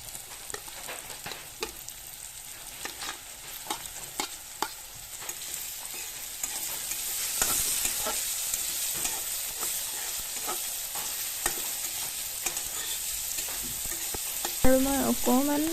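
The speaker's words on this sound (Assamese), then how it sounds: "ফ্ৰেঞ্চবিনখিনি অকণমান ভাজি ল'ম" French beans fry in a pan for Maggi noodles, with a steady close sizzle and frequent scraping stirs of a spatula against the pan, continuing throughout.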